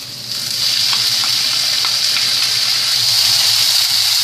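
Mushrooms, peppers and onions hit a hot pan and fry with a loud, constant hissing sizzle that swells in quickly and holds steady, with faint pops underneath.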